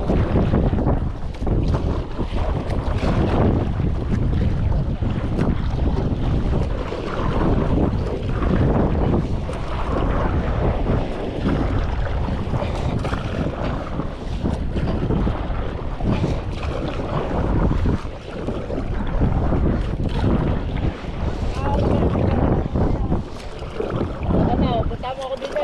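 Strong wind buffets the microphone outdoors near water, loud continuous gusty rumbling with bursts of roar that runs the whole time, and voices talk faintly beneath it.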